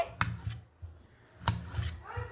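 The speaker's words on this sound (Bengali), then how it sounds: "তো দেখুন এইভাবে আমি কেটে নিচ্ছি আলুটাকে" A knife cuts a half-boiled potato into pieces at home, with a few soft, separate slicing taps spaced irregularly, quiet and close.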